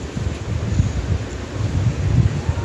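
Strong storm wind gusting in Dhaka during rain, a steady low rumbling rush with uneven buffeting swells and no voices.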